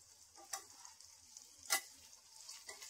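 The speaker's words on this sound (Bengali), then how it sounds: "এঁচড়গুলো এভাবে আমি লাল লাল করে একটু ভেজে নেব আগে।" Jackfruit pieces fry quietly in oil, a faint continuous sizzle broken by three or four sharp spatula clicks against the pan.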